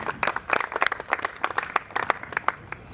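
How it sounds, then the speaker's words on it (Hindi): An audience at a motivational evening event for blind people breaks into applause, a close, uneven patter of many hands clapping continuously throughout. "उसके लिए आपको तालियां बजानी पड़ेगी।"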